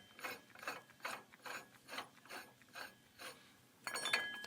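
A ratchet clicks steadily as it unscrews a hot, stuck ball joint on a 2002 Trailblazer, about nine even rhythmic bursts, close and fairly quiet, with no talking.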